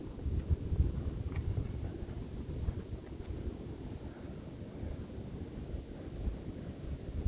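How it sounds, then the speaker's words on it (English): Steady low wind rumble at the Macungie Mountain Preserve buffeting the microphone throughout, with no voices. "Yeah, definitely getting windy over here"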